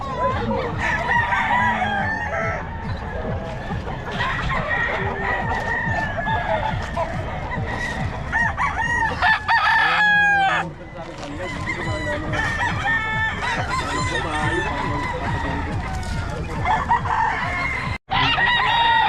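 A rooster crows over a noisy, busy background of clucking fowl and steady ambient sound, with a brief sharp cutoff near the end.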